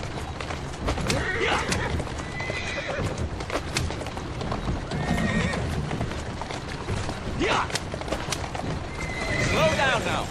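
In the Assassin's Creed Syndicate video game, a horse repeatedly neighs and whinnies over a steady clip-clop of hooves and rattling carriage motion, with voices talking now and then.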